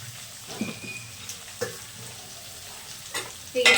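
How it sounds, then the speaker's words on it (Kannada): Onions fry in a pan with salt and turmeric, a soft, steady sizzle broken by a few sharp scrapes and clinks of a spoon stirring, growing louder at the end. "ಇನ್ನಿಲ್ಲಿ ಈರುಳ್ಳಿ ಎಲ್ಲ ಫ್ರೈ ಆಗಿದೆ"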